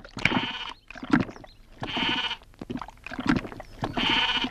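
A goat bleats loudly and nearby four or five times in a row, each cry drawn out and separated by short pauses.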